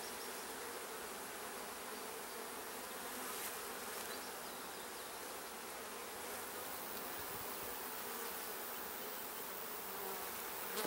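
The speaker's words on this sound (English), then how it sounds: "There's a yellow jacket trying to get his share." Bees and a yellow jacket at a hive give a faint, steady insect buzz that carries on unbroken, with no voices.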